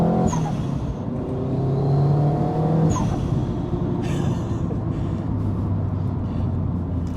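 A tuned, forged Subaru Impreza STI hatchback with around 465 bhp revs hard, its engine rising and falling through several throttle blips up to about 5,500 rpm, close and loud with a burbling idle between.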